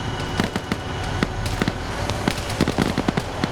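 Mortar fire in a multiplayer war video game, a rapid string of sharp, crackling blasts and pops over a constant rumbling din, close and loud.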